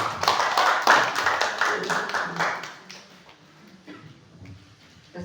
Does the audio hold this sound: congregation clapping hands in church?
yes